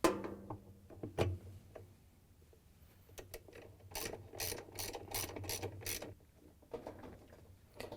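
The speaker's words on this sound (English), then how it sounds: "We can tighten it down with the same 7/16 inch socket that we used to take it out." A ratchet wrench with a 7/16 inch socket tightens the agitator coupler bolt on a GE washer, a few isolated clicks followed by a quick run of close, crisp ratcheting strokes.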